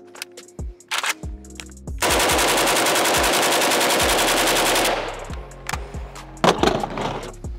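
A Pioneer Arms 556 Sporter AK rifle fed Polish magazines fires a few single shots, then a long sustained burst of rapid automatic fire, followed by more scattered loud shots outdoors.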